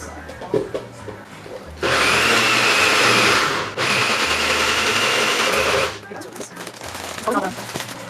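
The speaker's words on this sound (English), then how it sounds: "So hopefully this blends." A kitchen blender whirs loudly through garlic sauce for green mac and cheese in two bursts, a brief stop splitting them, with quieter kitchen sounds and a voice before and after.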